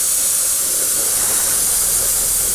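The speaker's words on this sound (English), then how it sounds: "Compressor is on. So now, as you see, I'm just covering the whole area" Airbrush spraying paint onto a 1/35 scale Tiger (P) Elephant model with the compressor running, a loud, steady, close hiss that continues without a break.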